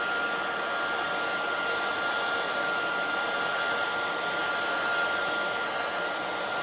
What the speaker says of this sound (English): so I'm going to dry the area with my heat gun